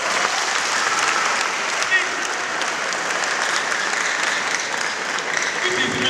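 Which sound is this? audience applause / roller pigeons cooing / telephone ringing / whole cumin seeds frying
audience applause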